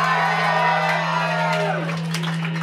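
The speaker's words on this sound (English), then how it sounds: "Let's give him a round of applause for Ricky" A crowd at a Mannequin Men rock show at the Empty Bottle whoops and cheers over a steady low amplifier hum, shouts rising loudly and then fading within a few seconds.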